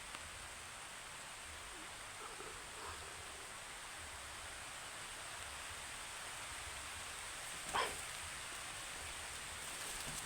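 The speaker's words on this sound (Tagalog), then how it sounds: "Umuulan na naman." Steady, soft rain hisses throughout, with a faint patter and one brief sharper noise partway through.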